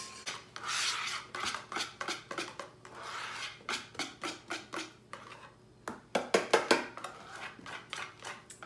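Mascarpone cream being mixed in a bowl for tiramisu, a series of rhythmic scraping and rubbing strokes of a utensil against the bowl, close and moderately loud, quickening into faster bursts near the end.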